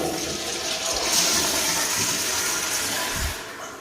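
A public restroom toilet flushes in one sustained rushing burst of water close by, with a broad steady roar that fades into a low gurgle near the end as the drains begin backing up.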